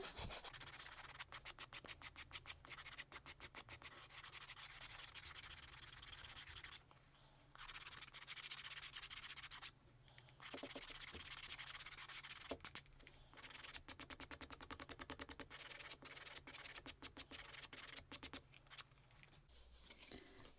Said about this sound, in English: We can improve that a little bit more just with more sanding.